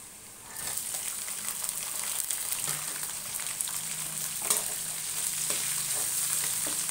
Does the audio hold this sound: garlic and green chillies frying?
yes